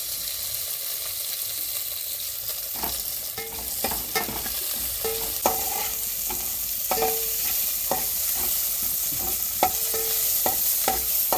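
Curry leaves sizzle and fry in a pan of oil while preparing a vegetable kuzhambu, a steady crackling hiss with intermittent clinks and scrapes of stirring.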